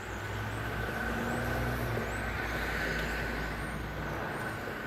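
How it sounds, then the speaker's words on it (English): Steady road traffic on a busy Thanksgiving holiday, a continuous low roar of passing cars and trucks with a faint hiss, heard at a distance with no talking. "Excuse the background noise, it's the traffic"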